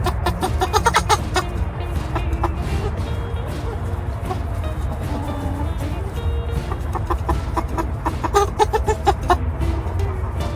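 Farm hens cluck and chatter in a busy, continuous stream with sharp rhythmic pecks and taps, close by, with faint occasional talk in the background.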